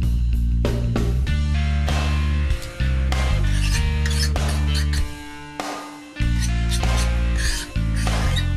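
A Katana fret leveling file, used with a LittleBone fret file, rasps in repeated diagonal strokes across guitar frets, a steady scraping beneath continuous background music.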